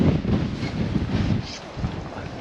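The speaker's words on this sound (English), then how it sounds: "Whoa, that was a big gust." A strong gust of wind sweeps down a channel across open water during fishing. Buffeting, rumbling wind noise fills the short clip, swelling and easing in irregular pulses with no voices.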